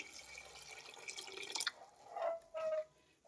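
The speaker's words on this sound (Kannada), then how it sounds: "2 ಗ್ಲಾಸ್ ಅಷ್ಟು ನಾನು ನೀರು ಹಾಕ್ತಾ ಇದ್ದೀನಿ" Water splashes and trickles into a cooking pot holding rice in short bursts, with drips and a faint tonal ring as it fills, fairly close and quiet.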